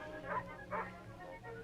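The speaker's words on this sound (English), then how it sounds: "looks like the Johnsons have a new dog" Two short dog barks from an old school safety film, a moderately distant woof around a third of a second apart, with a faint low hum running underneath.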